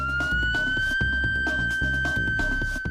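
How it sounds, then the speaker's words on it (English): A police car siren wails close by in a sustained rising tone during a Code 3 emergency run with lights and siren, mixed with a rhythmic pulsing electronic pattern underneath. "Code 3 refers to a police pursuit or emergency in which both lights and sirens are to be used."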